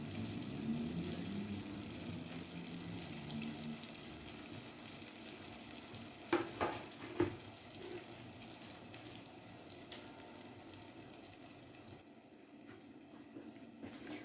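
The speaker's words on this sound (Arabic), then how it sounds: "انا درتو نقليه في الكاسرونه لانه ما كيجيش في المقله ما كيتقلاش مزيان" Food frying in oil in a deep pot, a steady close hiss and crackle throughout, with a few sharp clinks of a utensil midway and the sizzle easing slightly toward the end.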